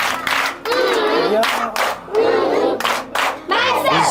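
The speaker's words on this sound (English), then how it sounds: "Now give him a love clap." A crowd claps and cheers in loud bursts, with shouting voices rising and falling over the noise.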